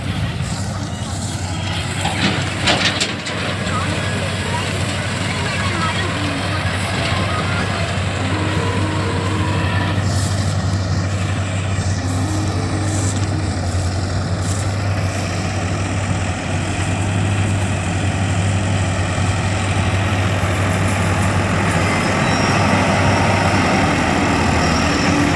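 A rice harvester unloads paddy grain into a tractor trolley, its heavy diesel engine droning loudly and steadily at a low hum, with rattling mechanical noise over the top throughout.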